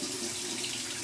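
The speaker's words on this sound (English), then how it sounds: "we're going to go ahead and run that under cold water here" Cold tap water runs steadily onto an alum block, a close, continuous splashing hiss from start to finish.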